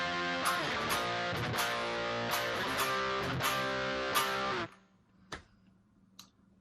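A distorted electric guitar plays power chords in a rhythmic picking pattern from a song tutorial, loud and sustained for several seconds, then cut off, leaving a few faint clicks.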